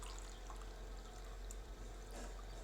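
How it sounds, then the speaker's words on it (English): Warm water pours steadily into a cup for a measured amount, a continuous trickling stream heard close up in a kitchen, with faint background noise and no talking. "I'm measuring 1 cup of water now."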